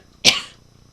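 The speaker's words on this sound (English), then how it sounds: "Cough alert for anybody who's on headphones" A single sharp cough bursts out, loud and close, then trails off quickly into quiet.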